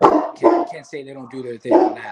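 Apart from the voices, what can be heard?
dog barking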